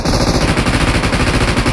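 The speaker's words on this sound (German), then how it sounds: "Ja, ich hab geschossen, damit die herkommen." Loud, sustained automatic gunfire in the PUBG Mobile battle royale game, a rapid unbroken stream of close shots filling the whole moment with no talking.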